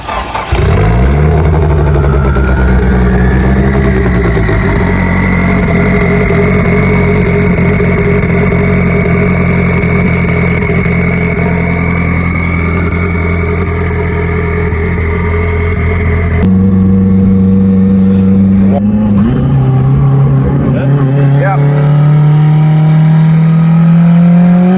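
A tuned Mitsubishi Evo with rolling anti-lag idles roughly and revs hard up close, with a loud, sustained engine drone that rises and falls before settling into a lower, uneven idle.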